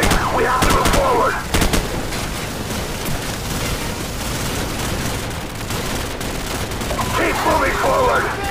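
Gunfire and explosive bursts in a Call of Duty 4: Modern Warfare battle mission in a bog, loud and continuous, with shouted voices at the start and end.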